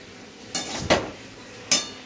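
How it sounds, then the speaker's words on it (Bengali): Spinach curry tipped from a cooking pot into a serving dish, heard as a few short clanks and scrapes of metal utensils, three distinct knocks spaced apart and fairly close. "তো আমি এটা পাত্র ঢেলে নিচ্ছি"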